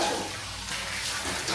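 Berries rinsed under a running kitchen tap, a steady close splash and gush of water over the fruit for a moment, with no voices.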